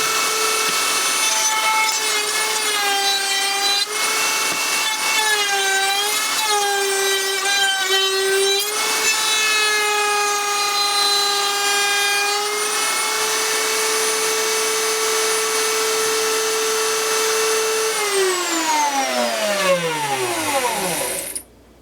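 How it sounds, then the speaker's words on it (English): A woodworking router cleans up a wooden neck removal jig, giving a loud, steady, high-pitched whine with a shifting cutting tone that runs throughout, then spins down at the end. "All that's left to do now is clean it up a bit on the router."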